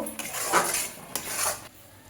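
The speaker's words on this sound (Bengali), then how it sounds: "পেঁয়াজ চালমগজ কাজু বাদাম সব একসাথে যে পেস্ট করেছি, সেই পেস্টটা দিয়ে এবার ভালো করে কষাবো।" A metal spatula scrapes and clatters in a pan while a paste of onion, melon seeds and cashews is stirred for cauliflower roast, a few close, distinct strokes.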